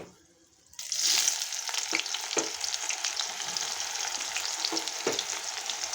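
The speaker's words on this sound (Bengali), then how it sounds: "কুচিয়ে রাখা পেঁয়াজ দিয়ে দিলাম" Chopped onion dropped into hot oil with bay leaf in a wok, bursting into a loud sizzle after a brief quiet start, then a steady close fry with a few stirring clatters.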